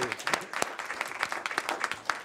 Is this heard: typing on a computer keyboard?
no